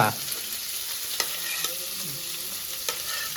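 Onion crackles and sizzles steadily in a hot frying pan, with a few sharp pops and a spoon clinking against the pan up close.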